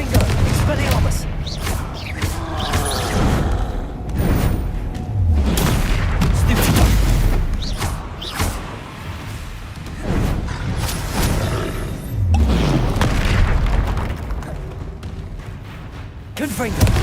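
Confringo fire-blast spells in Hogwarts Legacy on PS5: a series of loud booming blasts and whooshes repeating every few seconds through a spell-casting duel, with voices heard in between.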